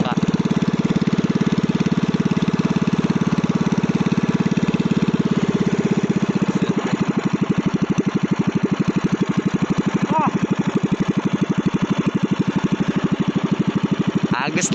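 A motorboat engine drones steadily and loudly throughout, its pitch and rhythm shifting partway through as it settles into a throbbing chug.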